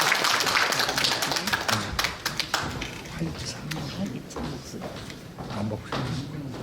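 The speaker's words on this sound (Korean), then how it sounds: "큰 박수 부탁드리겠습니다." Audience at a Korean book celebration event claps to welcome a speaker, scattered sharp claps thick at first then thinning out, with talk in the room.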